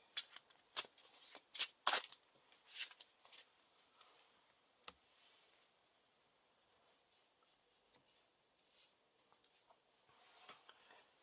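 Playing cards being shuffled for a Lord of the Rings card game, a close burst of crisp riffling snaps in the first few seconds, then scattered softer card flicks and quiet handling.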